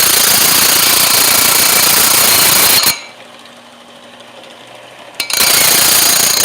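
A chainsaw bar is rubbed flat on sandpaper while being dressed. A loud, continuous harsh rasping runs for about three seconds, breaks off into a quiet gap, then resumes just as loud.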